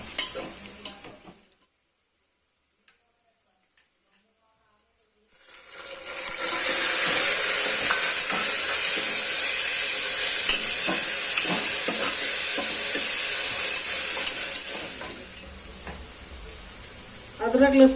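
Bay leaves hit hot oil in a pan and set off a loud, steady frying sizzle that runs on for about ten seconds after a quiet pause, with light clinks from stirring and some handling noise.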